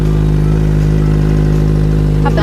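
A motorcycle engine idles loud and close in a steady, throbbing low rumble that holds even from start to finish, with a slight rattle near the end.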